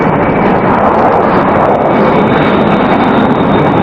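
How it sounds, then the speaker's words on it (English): The jet engines of a Tupolev Tu-144LL supersonic airliner roar steadily and loudly from inside the cabin, a dense unbroken rush that fills the whole clip with no voices. "the roar of the engines makes it impossible to talk without an intercom"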